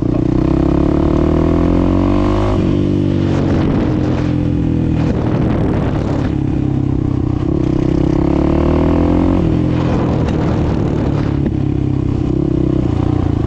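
A motorcycle engine revs up and down repeatedly, with crackling exhaust pops and rattling between the throttle blips, loud and close.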